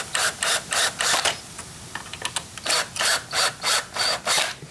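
A power drill drives screws into a wooden window frame built to hold Christmas lights, sounding as a series of loud, close, rhythmic whirring bursts. A short run of clicks and ticks falls midway between the bursts, and no one speaks.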